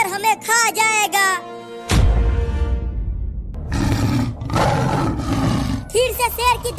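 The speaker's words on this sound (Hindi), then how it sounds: "फिर से शेर की दहाड़ने की आवाज आई।" In a Hindi kids' cartoon, a lion roars again near two frightened characters: a loud crashing onset, then rough, powerful roaring bursts, with high-pitched cartoon voices speaking before and after.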